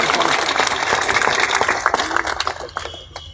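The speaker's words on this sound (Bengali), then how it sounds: "আমরা ডক্টর শ্যামাপ্রসাদ মুখোপাধ্যায়ের উদ্দেশ্যে জোরে জোরে একটা করতালি দেই" A crowd at a poetry recitation gathering claps together for a few seconds, a dense wash of hands that thins toward the end.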